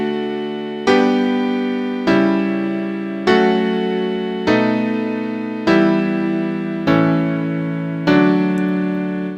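A secondary dominant chord, V of ii with raised scale degree 1 as leading tone to degree 2, played as a sequence of eight sustained chords struck at an even pace, each ringing and decaying before the next, with no voices.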